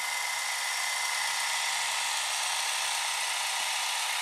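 A small smartphone screen-cleaning robot runs on a phone, giving a steady high-pitched whirring hum that stays close and even throughout, with no speech.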